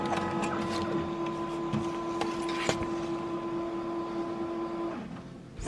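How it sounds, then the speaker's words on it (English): A desktop printer runs steadily for several seconds, printing bath bomb box labels with a steady mechanical whir and feed hum, a few clicks, then winds down near the end. "This is what I send to my printer to print."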